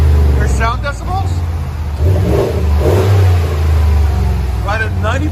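A deep, rumbling 5.7L HEMI V8 engine of a 2021 RAM Rebel pickup with Flowmaster 40 Series dual exhaust revs and idles with a throaty exhaust, loud and close, while people talk over it at the start and end.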